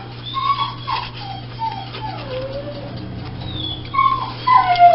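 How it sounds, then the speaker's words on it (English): A dog whimpers and whines in high, wavering, drawn-out cries that rise and fall, repeating at moderate volume over a steady low hum. "That dog, listen to her."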